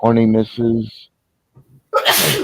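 A single sharp sneeze bursts out near the end, following a man's speech and a brief quiet pause, during a tabletop role-playing dice game session.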